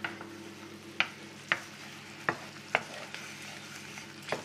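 Butter melting into a sauce in a pan beside resting steaks: a soft background sizzle punctuated by several sharp clinks and taps of a utensil against the pan at irregular intervals.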